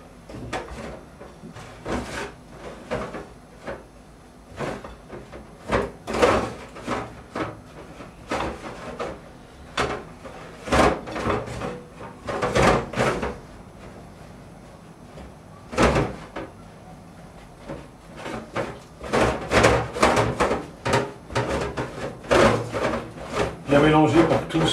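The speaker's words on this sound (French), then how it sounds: "Bien mélanger pour que tout soit bien homogène là-dedans." Carrot cake batter containing coconut is stirred in a bowl, giving irregular bursts of close scraping and knocking with quieter gaps in between.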